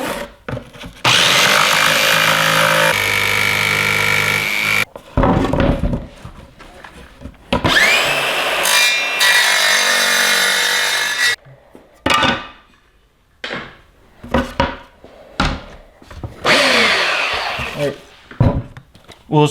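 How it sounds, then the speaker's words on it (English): A jigsaw fitted with a diamond blade cuts a fiberglass rocket fin in loud, rasping bursts that stop and start, broken by short pauses and handling clatter. "we have a jigsaw with a diamond blade. We're gonna use those to cut our first fin"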